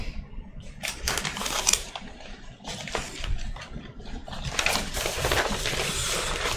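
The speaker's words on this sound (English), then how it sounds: "One second while I shuffle my notes around and try to get things organized here." Paper notes being shuffled and rearranged on a desk, a close series of dry rustles, flicks and soft crinkles in irregular bursts, moderately quiet with no talking.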